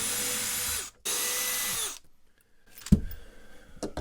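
A power drill backs screws out of an RV dinette in two sustained, loud whirring bursts, separated by a brief pause. Quieter handling clatter and small knocks follow.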